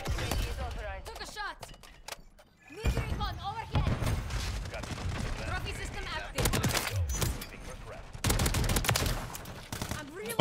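Rapid bursts of Riveter gunfire in Call of Duty MW3, loud and close, firing in several long strings separated by brief pauses, with a player's voice talking over parts of the action.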